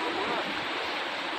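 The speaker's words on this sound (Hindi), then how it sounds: "ये जो आप इतनी तेज तेज आवाज सुन रहे हैं, ये पानी की है, इतनी तेजी से जा रहे हैं" A fast-flowing mountain river in Kumrat valley rushes past in a constant, dense roar of water, loud and close, with no break in the flow.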